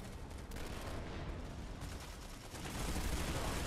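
Rapid hip-fired gunfire in the Planetside 2 shooter game: a continuous, dense rattle of shots mixed with battle noise, moderately quiet and unbroken, swelling slightly toward the end.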